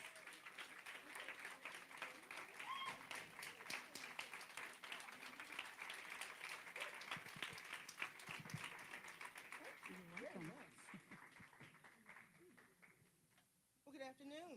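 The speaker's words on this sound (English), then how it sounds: "Please give her a round of applause," A brunch audience applauds its keynote speaker at a women's empowerment event, steady dense clapping for about ten seconds that tapers off, with voices and murmuring mixed in toward the end.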